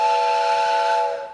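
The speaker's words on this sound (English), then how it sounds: "There's the noon whistle." A factory noon whistle sounds in one steady, loud, sustained steam blast that tapers off at the end.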